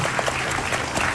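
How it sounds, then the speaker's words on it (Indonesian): Applause from a studio audience on an Indonesian television talk show, a dense, steady wash of many hands clapping at close range that fills the whole stretch with no voices above it. "Tepuk tangan buat mereka semuanya di sini."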